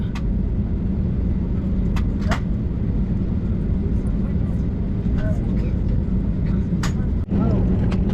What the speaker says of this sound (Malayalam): പുഷ് ബാക്ക് ചെയ്തുകൊണ്ടിരിക്കുകയാണ് നമ്മുടെ ഫ്ലൈറ്റ്